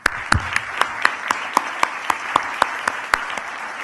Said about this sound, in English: Please give him and his team a big round of applause.